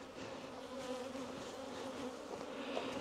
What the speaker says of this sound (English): right here is some bees